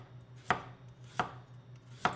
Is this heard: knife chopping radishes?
yes